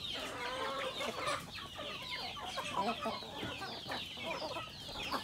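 Backyard chickens cluck steadily and overlap in a busy, close flock chorus, with scratching and rustling around them and no talk.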